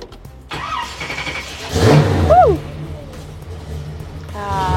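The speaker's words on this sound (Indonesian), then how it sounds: "Nah, muscle car mah berbeda guys suaranya." A restored Chevrolet Impala muscle car engine cranks, catches and revs with a loud, deep roar, then settles to a rumbling idle while people talk nearby.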